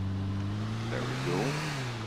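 A truck engine in GTA IV idles with a low steady hum, then revs up briefly in a rising whine before settling back, close and loud.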